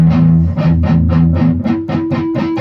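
Palm-muted electric guitar strings are picked in a quick steady rhythm, giving choppy percussive thuds with little ringing tone, loud and close.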